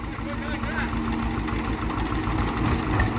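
A small tractor used for apple-orchard work idles with a steady low, rumbling chug, loud and close throughout with no break.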